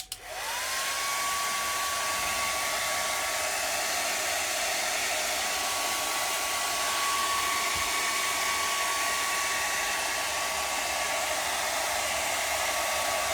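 A handheld hair dryer blows steadily at close range, starting abruptly and holding a loud, even whoosh with a high whine throughout, alone without talk.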